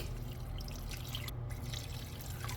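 Water poured into a cooking pot holding onions, seasoning and margarine for kaldereta, a steady, moderately loud trickle and splash close by with no voices.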